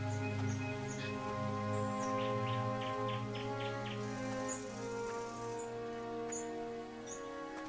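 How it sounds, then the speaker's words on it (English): Birds chirp and call in the game What Remains of Edith Finch, bright repeated tweets and short trills scattered over a steady ambient drone, with no talking. "Digging these bird noises."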